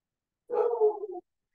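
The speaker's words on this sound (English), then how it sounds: "Oh, there's my dog." A single short dog vocalization, a brief whimpering bark lasting under a second, close and clear against silence.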